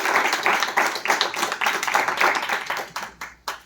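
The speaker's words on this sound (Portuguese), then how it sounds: "Merece uma salva de palmas." An audience applauding after a medical talk: a dense, steady round of clapping from many hands that thins out toward the end.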